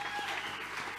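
A church congregation applauds, a dense wash of clapping lasting about a second, fairly soft and slightly distant.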